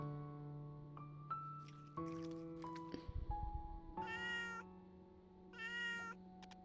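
A cartoon cat in the game Little Witch in the Woods eats crown apples, with chirpy meows and short squishy munching sounds over soft, sustained game music.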